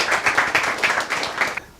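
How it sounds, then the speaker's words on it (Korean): A small seminar audience claps to welcome a lecturer at a franchise academy session, a quick run of close, rhythmic claps that stops abruptly. "큰 박수로 모시겠습니다."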